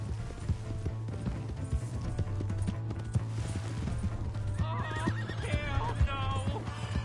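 A horse neighs and whinnies in a PS4 game, its call rising clearly in the second half over steady hoofbeat clip-clop and a constant low game drone, with a voice briefly audible.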